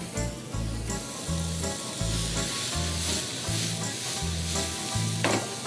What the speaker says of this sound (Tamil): இப்போது காளானை போட்டுறேன்.